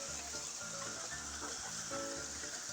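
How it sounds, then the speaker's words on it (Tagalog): Steady rain pours through the whole stretch in a rural Filipino home area during a day-and-night downpour ahead of a forming storm, a broad continuous hiss with low rumbling underneath. "Maghapon magdamag na ang ulan dito sa amin mga idol."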